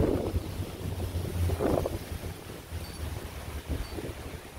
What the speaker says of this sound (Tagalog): The wind is blowing.